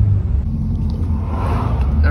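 A Mercedes CLK55 accelerates hard during a timed pull, its engine a loud, steady low rumble that fills the cabin and builds slightly, heard close up from inside the car.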